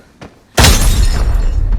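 After a brief soft thump, a sudden loud grenade blast in the video game Arena Breakout erupts and rumbles on with crackling debris, the boom filling the rest of the short clip.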